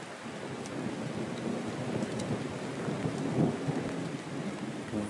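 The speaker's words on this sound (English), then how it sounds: "It's raining like a month early." Steady rain patters down in Mae Hong Son, Thailand, while low thunder rumbles in the background, a continuous wash of drops with no voices.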